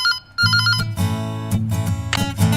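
An electronic ringtone plays loudly and close, a repeating melodic pattern of tones with short pauses between phrases.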